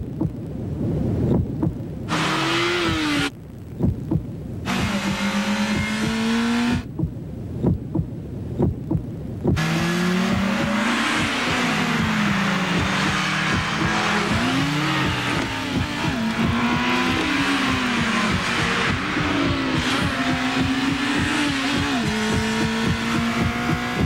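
An Acura RSX car drives and revs through a TV commercial, its engine note rising and falling in repeated surges alongside a pounding rhythmic soundtrack, with short gaps of near silence early on.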